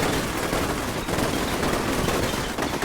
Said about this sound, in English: It comes under more fire from the opposite building.